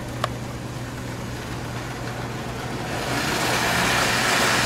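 American Flyer 1950 Alco diesel model train with DC can motors running after leaving a tunnel, a steady motor hum and track rumble that grows louder and fuller as the throttle opens, close by, with a small click near the start.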